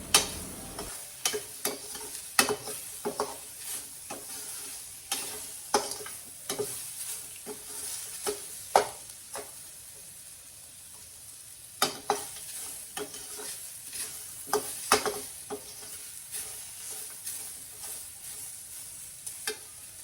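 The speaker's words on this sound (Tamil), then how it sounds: "ஒரு 2 to 3 minutes நம்ம அது மாதிரி கிளறி கொடுக்கணும்." Mango pachadi with cumin and asafoetida stirred in a pan on the stove: repeated close scraping strokes at an irregular rhythm over a steady, soft sizzle, with no talking.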